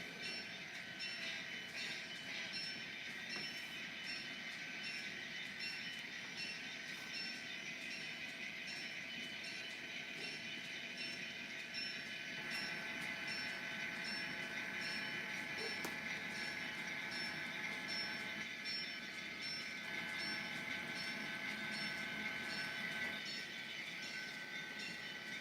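A long coal train rumbles steadily past on the rails, a continuous loud roar with metallic wheel noise and faint squeals, unbroken for the whole stretch.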